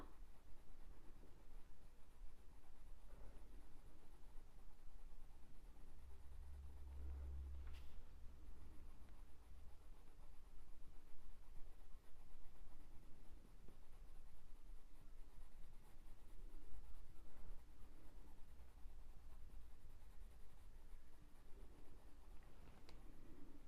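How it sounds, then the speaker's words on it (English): Pencil scratching back and forth on drafting film while drawing feathers, a soft, continuous, fairly faint scraping texture that runs steadily through the whole stretch with no talk. "It's a bit scratchy this side, so I'm just going back and forth to try and make it smooth out"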